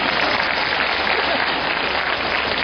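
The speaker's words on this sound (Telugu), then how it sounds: "ఈ చప్పట్ల ద్వారా మనం 2 పనులు చేస్తున్నాం" Dense, steady applause from an audience fills the space evenly at close range.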